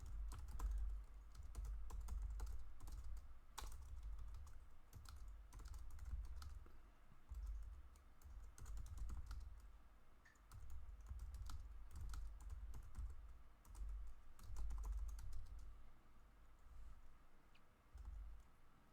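Computer keyboard keys clatter in quick, uneven bursts of typing with short pauses, close and fairly quiet, as deficiencies are entered into a facility inspection report.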